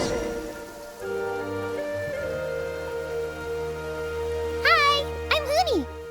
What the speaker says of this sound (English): always rains when I go on an adventure